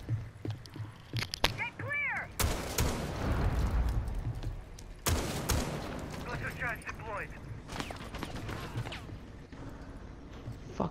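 Gunfire in Rainbow Six Siege, with sharp broadband shots near 2.5 s and 5 s, loud and close, amid game noise and a voice speaking.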